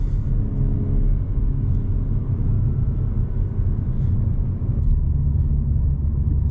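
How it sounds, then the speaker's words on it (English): Low, rumbling exhaust drone from a 2022 Audi S4 during spirited driving, heard from inside the cabin as a continuous deep rumble with no distinct pops standing out. "it's a good car to play with the symphony of sounds. You get the burbles and the bangs occasionally"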